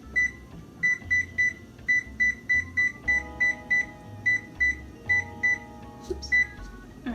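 An oven control panel being set to 425 gives a series of short, clear electronic beeps, one per button press, spaced irregularly, with a quiet hum from the kitchen underneath.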